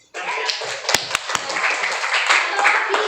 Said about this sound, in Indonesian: Ya, silakan memberi tepuk tangan.